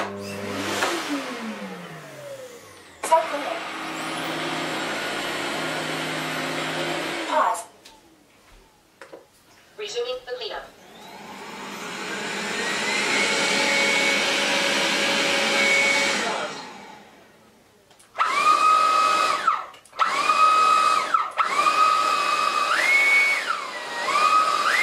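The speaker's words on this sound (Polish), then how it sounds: "Czym większą siłę ssania ustawimy, tym głośniej odkurzacz pracuje." A Midea M7 Pro robot vacuum cleaner runs at several suction levels, a steady whooshing motor hum that starts, stops and shifts pitch between settings, getting louder at higher power, with quiet gaps between runs.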